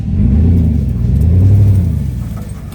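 Chevy 1500 dually pickup truck converted for more traction, its engine laboring up a hill climb: a loud, close, steady low rumble with a slight revving wobble that eases off near the end.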